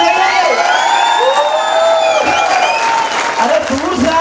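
Loud applause, cheering and whoops from a crowd at a company success-day event, saluting the country head, with excited shouting and voices over the clapping throughout.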